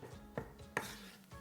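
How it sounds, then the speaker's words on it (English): A knife chops tomatoes into a quarter-inch dice on a cutting board, with a few separate sharp taps spaced apart and no talking. "let's get chopping some tomatoes. We're looking for a nice 1/4-inch dice across the board here."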